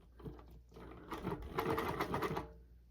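A sewing machine stitches a quilt along a ruler with a soft, quick rattling run that swells in the middle and fades toward the end, fairly quiet and close.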